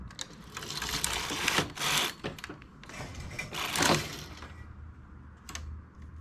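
A knitting machine carriage is pushed back and forth across the needle bed while knitting rows, giving faint rattling, clicking sweeps that rise and fall in level over a quiet background.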